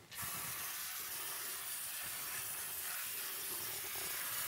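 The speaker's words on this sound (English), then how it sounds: "So I'm just going to give these a little spray down with WD-40." A continuous hiss of WD-40 aerosol spray on flood-damaged Amiga 500 computer parts starts abruptly and holds steady close to the microphone for several seconds without a break.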